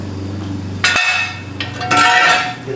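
Metal jack stands are pulled out from under a 2013-2019 Toyota Corolla. A low mechanical hum cuts off, then come a sharp metallic clank and scraping rattles of steel dragged across the ground.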